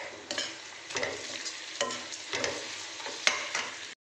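Ginger garlic paste frying in hot oil with bay leaves, cinnamon and cardamom for chicken biryani, a close sizzle broken by several bursts of stirring and scraping in the pan, with no voices over it.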